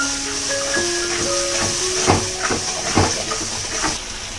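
Water poured into a hot pan while cooking catla fish gives a loud, steady hiss of steam close up, with faint clatter and tonal squeals mixed in.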